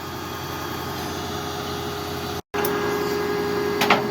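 A tow truck engine idles steadily nearby while a 2020 Suzuki Boulevard C50T motorcycle is towed, a constant droning hum with a brief dropout and a short rattle near the end.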